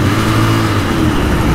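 A Royal Enfield Continental GT 650 motorcycle engine runs steadily and loudly up close, a continuous low throb of the parallel-twin with no talk over it.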